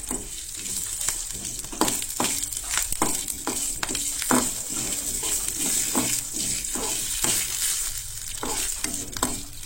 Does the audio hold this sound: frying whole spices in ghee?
yes